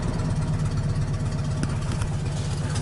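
A car engine idles steadily at close range, a continuous low rumble with an even throb and no revving, running alone without voices.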